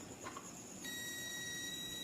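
A multimeter in continuity buzzer mode gives a faint, steady high electronic beep that starts partway through and holds without a break.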